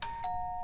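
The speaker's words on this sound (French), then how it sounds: "La sonnette de la porte d'entrée retentit." A front door doorbell rings with a quick two-tone chime, bright and clear, close and alone.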